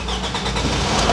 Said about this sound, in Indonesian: Akan saya hidupkan mesinnya, bisa kalian dengar mesinnya karena mesinnya 2400 cc, jadi lumayan besar ya gerungannya, gerungan awalnya.